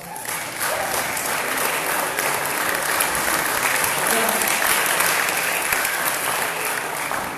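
Sustained applause from a debate audience honouring the event volunteers, dense steady clapping filling the room at an even loudness throughout, with a brief voice audible at the start.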